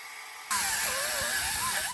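A drill bores holes through a bracket being fitted to a pickup truck for heavy hauling; a loud, steady, high whine starts abruptly after a moment of quiet and holds with a slightly wavering pitch.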